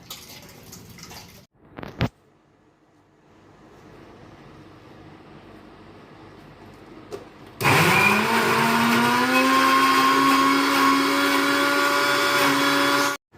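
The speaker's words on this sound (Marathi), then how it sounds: "आता आपण हे डाळ वाटायला जाऊ. मिक्सरवर वाटून घेऊ." After a quiet stretch with a brief clatter, a mixer grinder grinding cowpea and mung lentils switches on and runs loudly, a high whirring drone that rises in pitch then holds steady.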